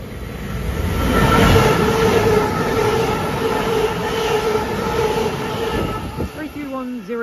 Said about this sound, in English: Passing through now is a Northern service from Manchester Airport to Blackpool North.